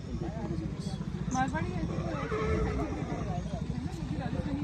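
A Marwari horse at the Pushkar fair gives a loud, wavering whinny close by, while people talk over it and crowd noise murmurs in the background.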